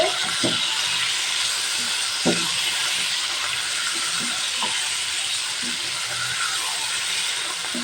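Chicken sizzles steadily in a pan as ginger-garlic paste is stirred in, with a dense, loud hiss throughout and a few soft spoon knocks; the chicken is being cooked with papaya and potato.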